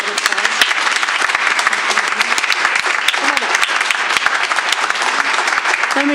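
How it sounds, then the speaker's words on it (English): Steady, fairly loud applause from a group at a school board meeting, dense clapping held for several seconds without a break, with faint voices mixed in underneath. "So can we please give them a applause?"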